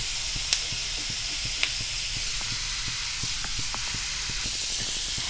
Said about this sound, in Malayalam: നമുക്ക് ഈ ഉള്ളി വേവിച്ചെടുക്കാം.